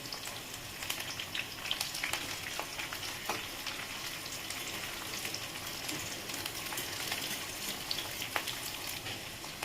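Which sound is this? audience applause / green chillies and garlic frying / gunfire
green chillies and garlic frying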